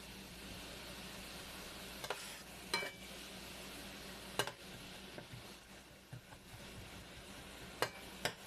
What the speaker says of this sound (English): Once the onions are browned to your liking